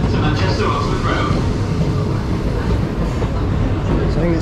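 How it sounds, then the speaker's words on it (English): A Northern passenger train rolls into a station platform on a Manchester-area line, a steady low rumble of wheels and traction noise filling the clip at close range, with a platform announcement voice heard over it. "Please remain behind the red line until this train has come to a complete stop."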